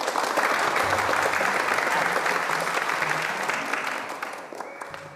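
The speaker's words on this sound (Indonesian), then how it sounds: "Ayo tepuk tangannya." A crowd claps in sustained, dense applause that holds strong and then gradually thins out.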